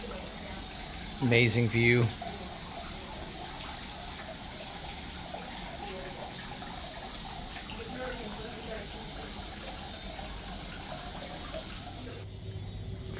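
Water flows steadily in a private onsen hot spring bath in Hakone, Japan, a continuous gentle rushing murmur throughout, with a brief spoken remark near the start.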